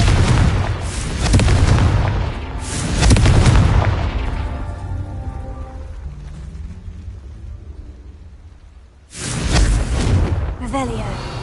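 Confringo blasting spell: two heavy, rumbling booms, one early and one near the end, with a quieter rumbling stretch between them and voices mixed in.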